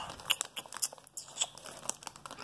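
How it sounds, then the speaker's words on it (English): Doritos tortilla chips being eaten, with a string of crisp, irregular crunches and crinkles close to the microphone, fairly faint and without talk. "I guess I'm just gonna go eat some Doritos"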